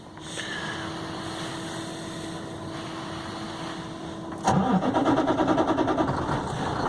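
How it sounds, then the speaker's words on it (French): A truck engine cranks and catches, then settles into a loud, steady idle with a pulsing rumble, heard close and alone after several seconds of quieter background hum. "Je vais repartir le camion."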